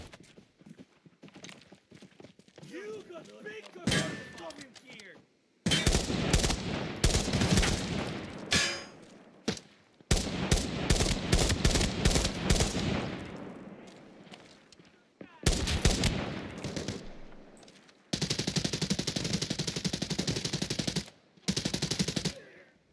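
Gunfire from a weapon in the shooter game Arena Breakout comes in repeated loud automatic bursts, separated by short quiet gaps, across the whole stretch.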